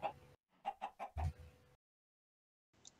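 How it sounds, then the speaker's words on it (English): A Minecraft chicken clucks in a quick burst of several short clucks, close and clear, followed by silence and a faint brief sound at the end. "Yay, chicken."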